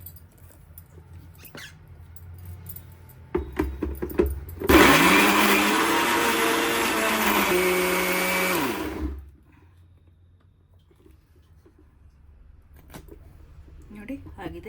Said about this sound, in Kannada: ಇವಾಗ ಮಿಕ್ಸಿ ಮಾಡ್ಕೊತೀನಿ.